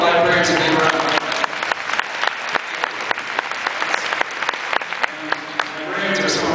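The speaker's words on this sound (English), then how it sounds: "let's give all the librarians a big round of applause" A conference audience applauds the librarians in the room; dense, steady clapping from a crowd, fairly close and loud, with sharp individual claps standing out and a voice starting to speak near the end.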